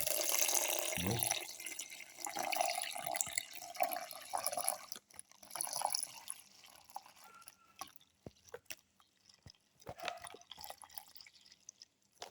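Milk poured into a grinder jar while making a cardamom plum banana milkshake, a steady liquid stream splashing and dripping close up for several seconds before tapering into scattered drips, with no talking.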